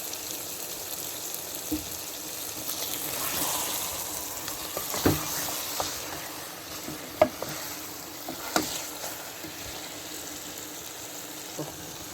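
Coriander is stirred into lamb and bitter gourd curry frying in a pan, giving a steady close sizzle broken by several sharp scraping knocks of the spoon against the pan.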